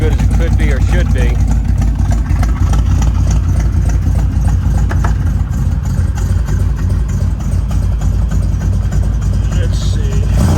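A 1968 Camaro V8 with an old-school chambered exhaust that has leaks, idling with a steady, loud, low rumble throughout, while a voice talks over it.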